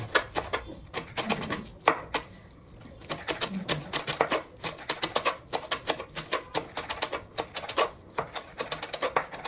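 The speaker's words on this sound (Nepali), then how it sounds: "प्याज काट्नु बिर्सिसकेछु भनेपछि" Onions are chopped on a cutting board for homemade momo, a fast, close series of sharp knife taps with a few short pauses.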